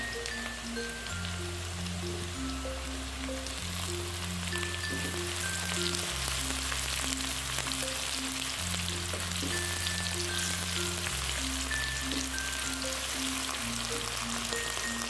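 Chilies and sliced ginger fry in a pan, a steady fine sizzle and crackle running throughout under a repeating background melody.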